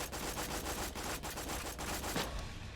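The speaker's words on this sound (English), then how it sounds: "You see I've just shot off a magazine" Rapid sustained automatic fire from the Lascaux SMG in Borderlands 2, a dense rattling burst emptying a full magazine, loud and continuous for nearly three seconds.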